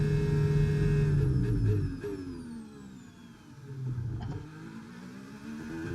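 Racing car engines roar on the final lap of a video game race. A loud engine holds a high note, then drops away as others rise and fall, with no talk.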